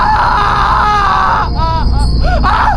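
A woman screams in terror in a horror-story scene, a loud, close, wavering wail followed by several shorter rising and falling shrieks.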